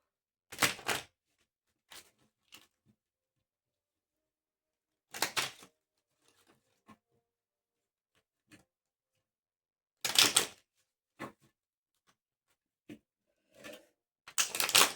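A few short bursts of riffling card shuffles, separated by quiet gaps with light taps and clicks between them, fairly close and otherwise silent.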